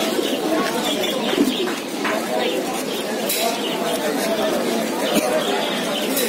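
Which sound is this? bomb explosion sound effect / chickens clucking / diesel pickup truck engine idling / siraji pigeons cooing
siraji pigeons cooing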